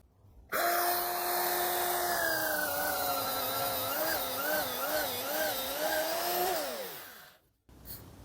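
An electric drill mounted in a drill stand boring a hole, its motor starting abruptly into a steady whine that wavers in pitch under load, then winds down and stops.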